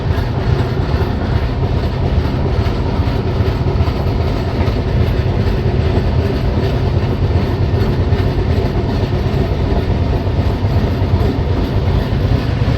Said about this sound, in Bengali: দুর্গাপুর স্টেশন থেকে ট্রেন ছেড়ে বেরিয়ে যাচ্ছে।